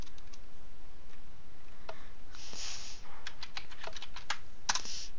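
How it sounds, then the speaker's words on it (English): Fingers type on a computer keyboard in quick irregular clicks, some clusters louder than others, over a steady hiss of background noise. No one speaks. "Type in words."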